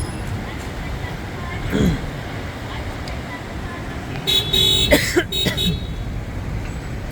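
Car horns honk in short toots amid a traffic jam at a crowded gas station during a hurricane in Jamaica, with a few blasts near the middle over background traffic rumble and people talking.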